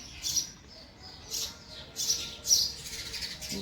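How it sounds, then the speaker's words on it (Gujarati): Small birds, sparrows, chirp in short bright bursts around a home in Gujarat, the calls repeating every second or so at moderate distance over a quiet background. "હવે ચકલીઓ આવવા માંડી છે પાછી"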